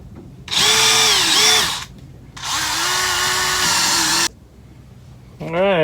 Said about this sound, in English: There's still some pieces in there I'll have to drill out.